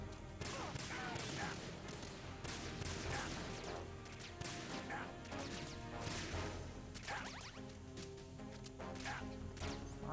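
Gunfire in the Metal Gear Solid 2 video game, sharp repeated shots and cracking impacts scattered throughout at moderate level, with a voice talking underneath.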